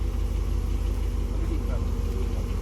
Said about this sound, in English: this one has the twin tip exhaust. And you can really tell it has a nice V8 rumble